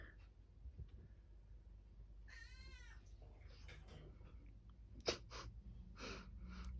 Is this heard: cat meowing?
yes